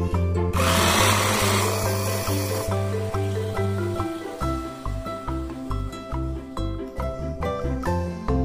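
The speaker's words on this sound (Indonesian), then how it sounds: "Blender menggunakan santan, tapi sedikit aja," An electric blender whirs through coconut milk batter with pandan leaves for kue manja (Tokyo pancakes). A loud grinding roar lasts about two seconds, then gives way to steady rhythmic tonal background music.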